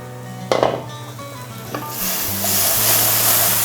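Prawns and long beans with Kashmiri chilli powder being stirred in a pan after simmering, with a wooden-sounding scrape and clatter early on, then a steady close sizzle building and continuing to the end.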